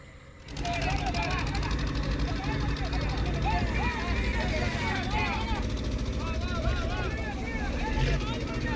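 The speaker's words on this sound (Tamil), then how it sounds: "நமக்கு பின்னாடி வந்த ஒரு லாஞ்சு" A motor launch boat engine drones steadily up close near Katchatheevu island, a loud continuous motor hum with birds chirping over it.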